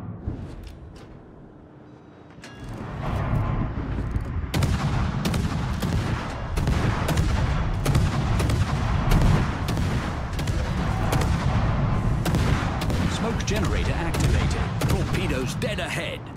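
Naval guns on a Tier 10 destroyer, HMS Druid, boom in a World of Warships battle, a dense barrage of rapid blasts and rumbling volleys that rings on continuously after a quieter opening.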